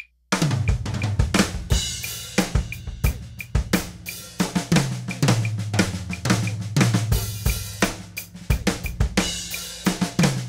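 A drum kit plays a flammed fill phrase beginning on the and of beat one, dense crisp strokes across drums and cymbals over a steady low pulse, loud and close, with no talking.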